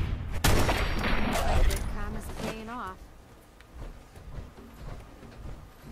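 Bursts of gunfire in modded Fallout 4 crackle through a dense, noisy mix, loud at first and then thinning into scattered distant shots over background game sounds.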